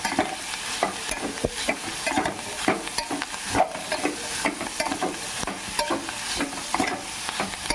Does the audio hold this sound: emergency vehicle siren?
no